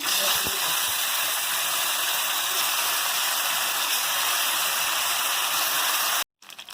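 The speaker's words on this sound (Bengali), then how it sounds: "মাছ ভাজা হলো" Stinging catfish fry in hot oil with a loud, continuous, even hiss of spitting grease. It holds steady for several seconds, then cuts out sharply just before the end.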